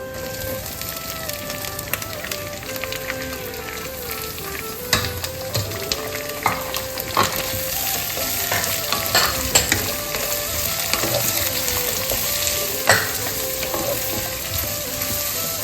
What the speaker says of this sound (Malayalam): സവാള അത്യാവശ്യം നല്ല ഡാർക്ക് കളറായി വരണം ഗോൾഡൻ കളറാവണം അതുവരെ വഴക്കണം